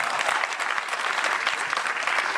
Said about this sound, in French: applaudissez fort pour ma chère maman